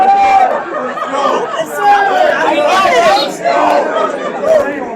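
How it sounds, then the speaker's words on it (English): A wrestling crowd at Legends during the OCW Halloween Bash 2023 event roars and chatters in waves, loud and close with overlapping shouts and cheers. "The crowd at Legends is loving the action now"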